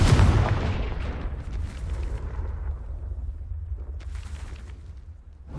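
A Confringo fire-blast spell bursts in Hogwarts Legacy: one loud booming explosion opens, then a long rumbling roar slowly fades, with a second softer crackle of debris near the end and no talk.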